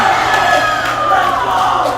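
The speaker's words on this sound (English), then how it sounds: "The crowd goes wild." Crowd at a high school game erupting in loud, sustained cheering and whooping right after a game-winning shot, a dense roar of many voices for two seconds.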